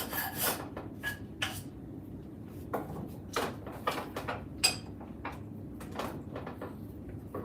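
A Shinto rasp files an axe handle in a series of short, scraping strokes at an uneven rhythm, close and fairly quiet.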